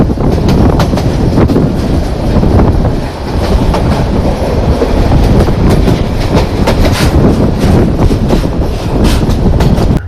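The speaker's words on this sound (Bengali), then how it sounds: "বেশ ভালো পরিমাণ গতি নিয়ে ছুটে চলছিল আমাদের মোহনগঞ্জ এক্সপ্রেস" Mohanganj Express passenger train running at speed after leaving Shyamganj junction, with a loud, steady rumble of wheels and rhythmic clickety-clack of rail joints throughout, plus some wind buffeting.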